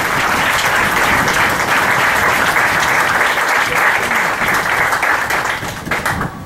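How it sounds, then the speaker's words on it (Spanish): A church congregation applauds loudly and steadily throughout, a dense sustained clapping that tapers slightly at the end. "Le doy un aplauso al Señor."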